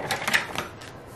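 Cardstock is cut for a handmade card: a few quick, crisp clicking snips close by, followed by a quieter tail.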